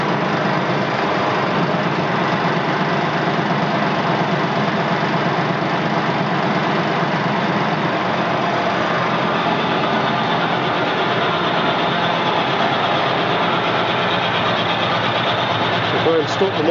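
Motor of a Schiess ZK180 vertical borer running with a steady, loud, even drone throughout, with no pause.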